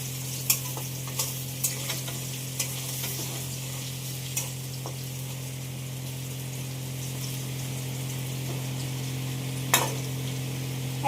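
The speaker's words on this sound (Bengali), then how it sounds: "তো এখানে আলু ভাজা হচ্ছে।" Potatoes fry in a pan for a Bengali dhoka dish with a steady close sizzle, while a spoon stirs them and gives scattered scrapes and clicks against the pan. There is no talk.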